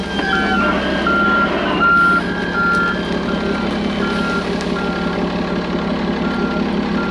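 Backup beeps sound from a truck reversing while riprap is dumped at a road repair site, steady and loud over a rumbling diesel engine, with no talk.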